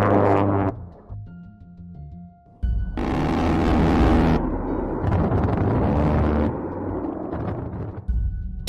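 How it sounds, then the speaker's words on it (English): A Thunderbolt attack aircraft passes with a loud roar mixed with bursts of gunfire and explosions, loud, rumbling stretches broken by short pauses and sharp blasts. "It's the roar of the Thunderbolt, which starts and disappears in a matter of seconds and is accompanied by a hail of bullets and explosions."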